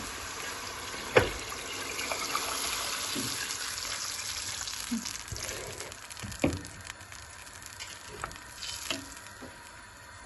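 Water poured into a hot pan with cooked tomatoes gives a steady broadband sizzle, with scattered clatters and bubbling pops throughout, fairly close.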